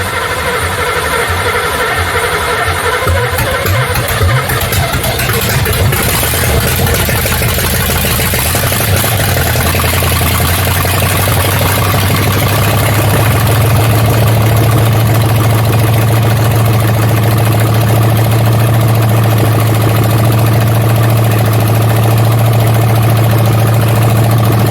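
A Camaro engine runs on a carburetor with fresh fuel, loud and close with a rough, steady rumble. The tone shifts partway as the revs settle into a lower, more even drone, and no voices are heard.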